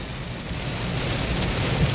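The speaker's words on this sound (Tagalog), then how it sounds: "Blurred ang daanan natin, Madlang World, dahil malakas ang ulan." Heavy rain pouring steadily on the road during a drive, a dense continuous hiss and rumble close by with no talk.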